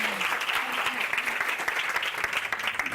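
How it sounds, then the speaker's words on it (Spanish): Audience applause at a women's day gala in Alicante, a dense, steady wash of clapping from a sizable crowd that holds throughout. "Un aplauso"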